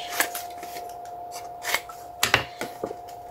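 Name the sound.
scissors cutting material on the bias for a pouch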